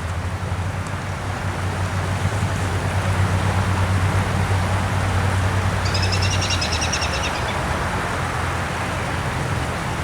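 Steady broadband rush of a stream flowing over rocks fills the scene, continuous and close, with a low traffic hum beneath and a brief bird chirp partway through.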